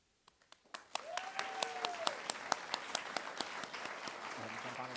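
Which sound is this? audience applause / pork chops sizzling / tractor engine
audience applause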